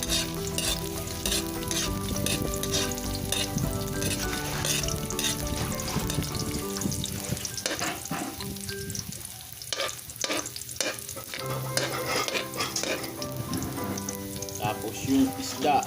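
Garlic and ginger fry in a pan with a steady close sizzle and crackle, broken by repeated scraping and clinking as a utensil stirs them, alone with no voice.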